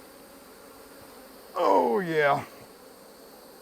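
Honey bees buzz loudly in a burst of about a second from an opened backyard beehive, close and swelling, after a brief spoken remark.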